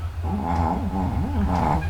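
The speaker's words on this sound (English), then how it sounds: "my little Bella is over here snoring up a storm. I'm sure y'all hear her" A dog snoring and grumbling nearby in a quiet indoor room, making a continuous, close, throaty rumble with wavering rises and falls throughout.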